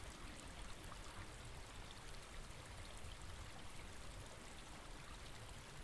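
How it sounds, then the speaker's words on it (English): A small trickling stream runs over spongy earth, a faint, even wash of flowing water that holds steady throughout with no voices. "you pass the small trickling burn, carving through the spongy earth"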